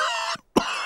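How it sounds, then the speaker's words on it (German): A cartoon bear doctor in a children's animated show coughs twice, two short, close, sharp bursts separated by a brief gap of silence, set over a continuous musical background. "Dr. Braunbär hat sich mit Pedros Husten angesteckt."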